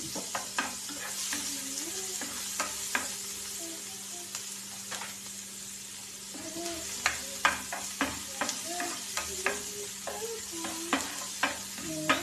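Onions frying over high heat in a pan with hotdog for fried rice, making a steady sizzle broken by frequent clicking spatula scrapes and taps, busier toward the end. There is no talk.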